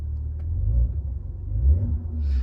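A Maserati Ghibli in ICE mode gives a deep low engine rumble that swells as it accelerates, steady and fairly close with no talk.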